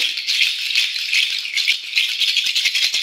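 Small shamanic purification rattles shaken steadily and close up, giving a continuous bright, gritty swishing with a light pulsing rhythm throughout.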